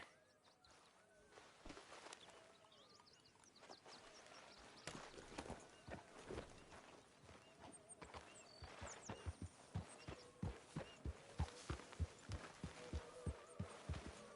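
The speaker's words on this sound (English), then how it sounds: "Arthur, get that horse out" Horse hooves clip-clop in a steady rhythm in Red Dead Redemption 2, growing louder and more regular toward the end, over a low background hum.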